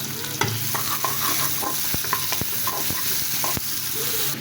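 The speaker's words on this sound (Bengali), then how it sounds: "পেঁয়াজটা আমি হালকা বাদামি রং করে ভেজে নিচ্ছি" Chopped onion frying in a pan until light brown, a continuous sizzle under repeated scraping and knocking strokes of a spatula, close and fairly loud.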